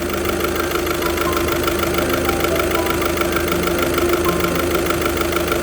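A car engine with a bad head gasket idles at operating temperature, a steady, loud, close mechanical drone with a fast even ticking knock running throughout and no voices.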